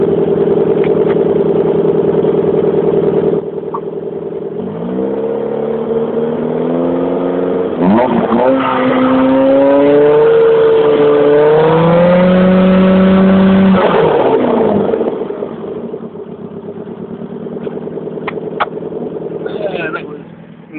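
An unhealthy, misfiring Vauxhall Corsa engine revs up close, climbing toward near red line with a rising pitch, holding high, then dropping back to a rough, uneven idle with sputtering irregularities.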